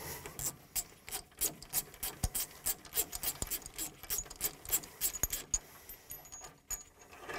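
A wrench loosens a bolt on a Tempo planter row unit's press wheel arm, producing a steady series of sharp metallic clicks and rasps with uneven rhythm, close up and without talk.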